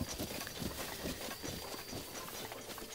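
Horses in a Zelda video game clip-clop steadily at close range, a quick rhythmic patter of hooves with no talking over it.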